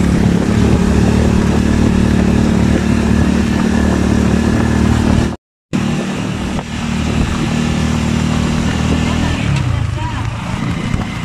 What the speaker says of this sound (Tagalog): So ayan guys, bali sakay na tayo ng tricycle papunta doon sa bangka.